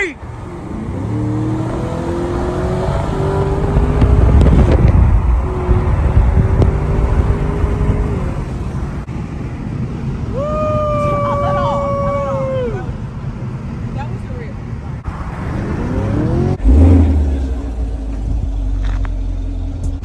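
Dodge Challenger, Chevrolet Camaro and Ford Mustang accelerating hard in a night race among friends, loud engine roar rising in pitch with gear-change sweeps, heard from nearby with people talking over it.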